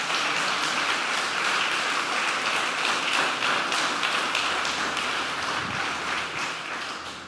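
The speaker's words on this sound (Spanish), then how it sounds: "Dele un aplauso al Señor." Sustained, dense applause fills a church service, steady and fairly loud throughout with no voices standing out, tapering slightly at the end.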